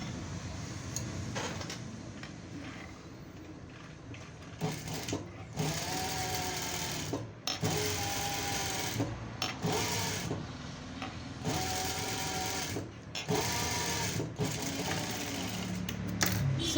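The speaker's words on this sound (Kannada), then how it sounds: "ಬನ್ನಿ ಮಿಷಿನ್ ಮೇಲೆ ಇದನ್ನ ಹೇಗೆ ಸ್ಟಿಚ್ ಮಾಡೋದು ತೋರಿಸ್ತೀನಿ" A sewing machine stitches a boat neck blouse, its rapid mechanical whir coming in several close bursts separated by short pauses, with faint ticks and fabric handling between runs.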